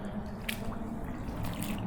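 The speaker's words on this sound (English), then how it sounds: "And now I'm gonna step back into the water" Splashy steps into dirty standing water inside an abandoned power plant, a few soft wet squelches and drips close by with no talking.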